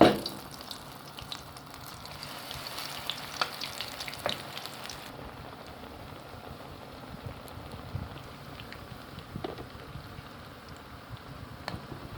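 Zucchini fritter batter (mücver) spooned portion by portion into hot frying oil, with steady close sizzling and crackling throughout and a few soft spoon clinks early on, no talk.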